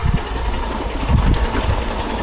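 A motorcycle engine rumbles low and steady while braking downhill on a steep ghat road, with continuous close engine drone and road vibration and no talk.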